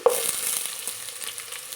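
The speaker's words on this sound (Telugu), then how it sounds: "ఇలా ఆనియన్స్ అన్నీ వేసుకొని వేగేంత వరకు వేయించుకోవాలి" Chopped onions sizzle loudly in hot oil with whole spices for an egg dum biryani, starting with a sharp hiss and settling into a steady crackle with faint stirring.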